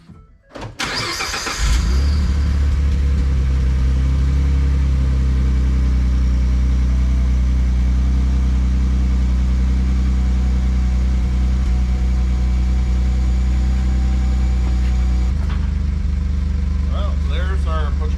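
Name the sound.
Ford F150 EcoBoost engine idling after exhaust repair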